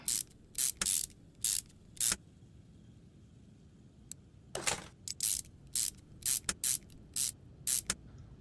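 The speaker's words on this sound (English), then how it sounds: "The wrenching has gotten a little faster" A wrench ratchets on parts of a 1970 Edgewood Hellcat in Car Mechanic Simulator 2021, sounding as a series of short, sharp bursts spaced by brief silences, close and with no voices.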